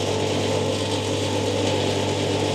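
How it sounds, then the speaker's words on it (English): An aviation fuel pump dispenser runs with a constant loud mechanical whir and rattling drone, steady and close throughout without pauses or voices. "Take the pump dispenser, and like at the petrol station, the pump will start up"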